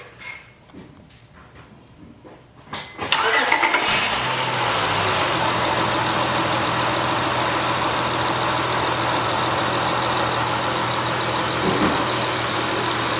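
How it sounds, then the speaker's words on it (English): A 2007 Honda Accord EX-L engine cranks and catches around three seconds in, then settles into a steady, close, even idle with no other sounds. "I just want to start up this vehicle so that you can hear it run real quick."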